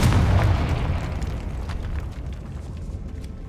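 Confringo fire spell exploding in the Hogwarts Legacy video game, a sharp close boom at the start followed by a rumbling tail that slowly fades out.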